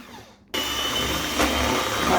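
Electric hand mixer beating muffin batter with oil for chocolate and torró magdalenas, a steady loud whirring drone that kicks in abruptly after a brief quiet start and runs on continuously.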